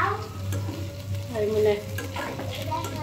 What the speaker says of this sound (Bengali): এই যে দেখেন এখানে আলু দিয়ে চান্দা মাছ ভাজা হয়ে গেছে